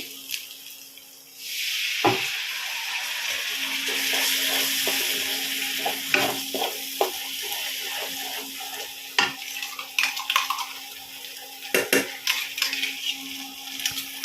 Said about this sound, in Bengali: একটু গরম জল অ্যাড করছি।